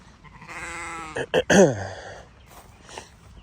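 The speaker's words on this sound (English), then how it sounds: "We'll show the sheep real quick." Sheep bleating in a Florida farm pasture, one long wavering bleat followed by a couple of shorter close, loud calls, then quieter background.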